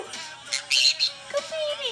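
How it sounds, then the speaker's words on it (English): A green cheek conure chirps and squawks in short bright bursts over about two seconds, close by indoors, with faint background noise. "Are you being the silliest bird tonight?"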